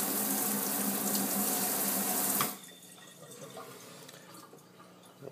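A vape tank, removed from an Innokin iClear 30, rinsed under a running tap: steady loud gushing water that stops abruptly partway through, leaving faint drips and quiet handling noises.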